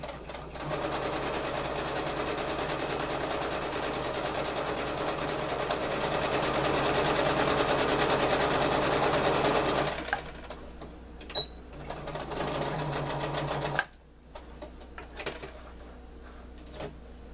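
A sewing machine stitches a trick-or-treat bag in one long, loud, continuous whir lasting about ten seconds, then drops to quieter intermittent mechanical clicks and handling noise.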